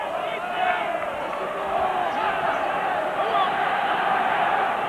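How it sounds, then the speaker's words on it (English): A football stadium crowd at a 1996 WLAF Scottish Claymores game at Rhein Fire roars in a broad, steady wash of cheering and shouting, loud and continuous throughout. "And the crowd getting into it."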